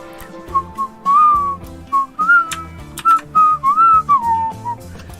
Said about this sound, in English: I always whistle when I'm listening to music